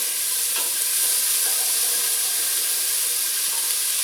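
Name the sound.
onions frying and being stirred in a pan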